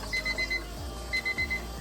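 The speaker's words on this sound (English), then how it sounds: "my timer is going off, and it's still venting, of course." A kitchen timer alarm goes off beside a pressure canner while rice is being canned, sounding two bursts of four rapid high beeps each, loud and close, with no talk.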